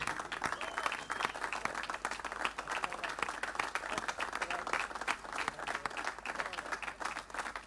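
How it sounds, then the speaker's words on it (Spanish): Sustained applause from an audience honouring a flamenco singer at a tribute event, dense steady clapping that carries evenly for several seconds with no break. "Un fuerte aplauso para él."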